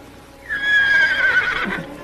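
A horse neighs loudly and close by, one long rising then falling whinny that carries on for about a second and a half, with no talking.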